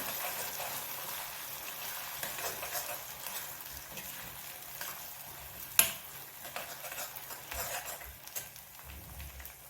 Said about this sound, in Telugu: మనం పేస్ట్ చేసుకున్న ఈ పాలకూర పేస్ట్ కూడా వేసుకొని చక్కగా వేయించుకుందాం.